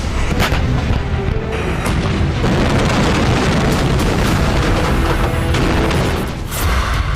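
Artillery shelling and explosions in the Nagorno-Karabakh war between Azerbaijan and Armenia: dense, loud rumbling booms and blasts follow one another almost without pause, with sharper bursts standing out now and then.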